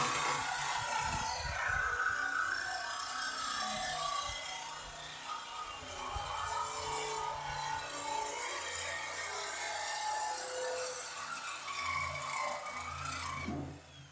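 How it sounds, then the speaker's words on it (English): A saw cutting through a steel travel trailer frame, a harsh, continuous high-pitched grinding rasp that carries steadily for over ten seconds and cuts off at the end. "This saw zipped through there much easier than that grinder."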